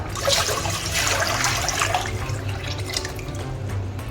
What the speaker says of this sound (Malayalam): 2 ലിറ്റർ വെള്ളം ഒഴിച്ചു കൊടുക്കുക